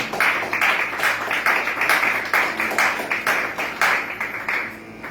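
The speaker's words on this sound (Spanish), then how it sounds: "Dale un fuerte aplauso al Señor entonces en esta mañana." A church congregation claps for the Lord during a Spanish-language sermon, a full room of hands beating in a loose, pulsing rhythm that stays steady and fairly close for several seconds with no voices on top.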